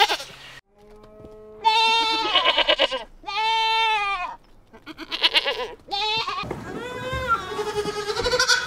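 Goats bleat loudly and close by, several long wavering cries one after another with short gaps between them, some overlapping.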